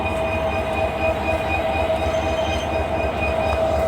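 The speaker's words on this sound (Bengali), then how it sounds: "এই যে ট্রেনের ইঞ্জিন প্রিয় বন্ধুরা এটা এখন ট্রেনটি ছুটে চলবে তার গন্তব্যের দিকে" A train engine stands at Natore railway station in Bangladesh, giving off a loud, steady rumble with a sustained tonal hum. The sound stays constant and close throughout, with no voices.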